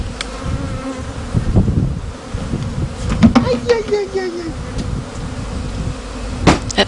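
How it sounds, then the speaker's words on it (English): Bees swarm around a camp cooking area on a lion safari in Tanzania, a dense continuous buzzing with individual insects whining past up close, plus faint background clatter. "the cooking area, well, it was a real magnet, a honeypot you might say,"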